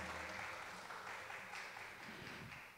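Applause from an audience at a film completion press event for the cast and director, a soft, distant, even patter of many hands that fades slightly near the end.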